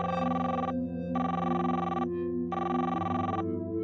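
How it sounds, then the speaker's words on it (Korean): A telephone rings in three long electronic bursts separated by short gaps, loud and close, over a steady low background tone, at dawn in an ex-boyfriend's home. "전화가 한 통 걸려옵니다"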